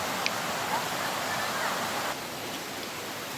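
A tall waterfall spills onto a stream at Ghonsari Sapatwadi, giving a steady, broad rushing roar that fills the whole stretch without pause.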